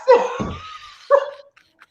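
A dog barks twice in quick succession, loud and close indoors, the first bark longer and the second shorter, with a faint yip trailing after.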